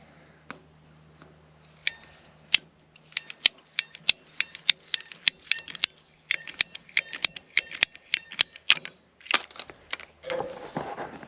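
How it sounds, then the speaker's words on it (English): A small ratcheting PEX cutter bites through plastic pipe during a gold wash plant build, giving a close series of crisp, evenly paced clicks that end in a final snapping cut. "this is the little PEX cutter here"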